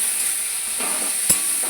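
Tomato and ginger fry in a pan with a steady, soft sizzle while a utensil stirs them, and a single sharp scrape or knock against the pan sounds near the end, with no voices.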